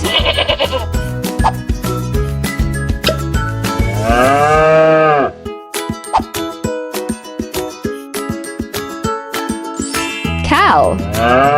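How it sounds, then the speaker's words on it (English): A cow moos in a children's animal-sounds learning segment, a long lowing call set over bright, busy backing music with a steady beat, with a shorter call near the end. "Cow."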